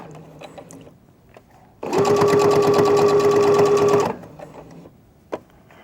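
A sewing machine runs in one steady continuous burst of stitching for about two seconds, sewing close along a garment seam, loud and near, with quiet handling noises before and after.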